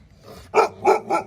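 A chained guard dog at a village home barks three times in quick succession, loud and close, with short pauses between the sharp, harmonic barks.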